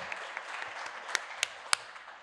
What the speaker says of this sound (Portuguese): E aplausos, gente, pelo amor de Deus